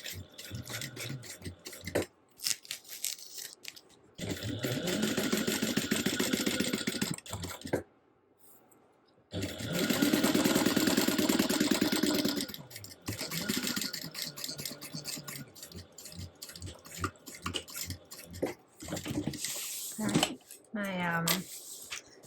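A sewing machine stitches through clear vinyl in several steady buzzing runs separated by short pauses for backstitching and pivoting, close up, with a few clicks and a voice speaking briefly.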